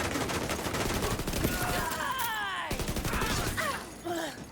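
Rapid gunfire from weapons in a video game, a dense, fast rattle of shots running almost without a break, with brief sweeping effects and a pause near the end.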